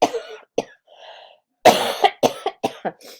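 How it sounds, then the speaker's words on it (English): Several close, harsh coughs come in a cluster, with a short rough bout early on and a rapid string of coughs later. "Excuse me, I'm going to cough."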